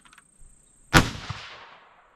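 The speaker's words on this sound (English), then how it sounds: "Probably shoot 3-shot groups from here on out." A single sharp gunshot from a .22 ARC rifle cracks out close and loud, then rings away in a long decaying tail outdoors.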